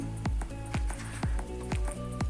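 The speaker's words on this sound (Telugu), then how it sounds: "ఇందులోనే రెండు టేబుల్ స్పూన్ల జీడిపప్పు వేసుకుందాం అలాగే ఒక టేబుల్ స్పూన్ బాదం పలుకుల్ని కూడా వేసుకుందాం" Cashews and almond pieces fry in a pan for ravva kesari. A close, steady sizzle is punctuated by a regular run of soft, sharp pops, with no talking.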